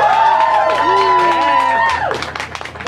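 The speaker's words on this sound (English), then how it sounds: "Clap if you know who that is." A live concert crowd at the Bug Jar: a sustained, ringing musical tone gives way to a burst of clapping and cheering near the end.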